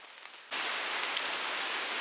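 Rain falling steadily during a countryside walk in the Cotswolds, a dense, even hiss that starts abruptly and stays loud.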